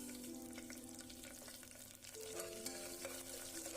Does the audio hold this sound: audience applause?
no